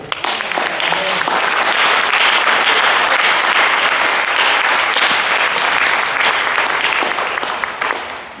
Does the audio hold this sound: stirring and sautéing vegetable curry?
no